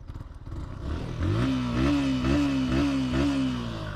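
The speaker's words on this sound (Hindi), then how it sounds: "तो गाइस यहाँ पे एक बार आपको इसका बाइक का साउंड सुना देते हैं।" A Yamaha R15 sport motorcycle engine revs up from idle into a rising, throbbing roar that pulses through several quick throttle blips, loud and close.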